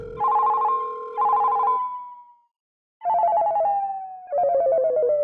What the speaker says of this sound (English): heard his phone ringing from inside the house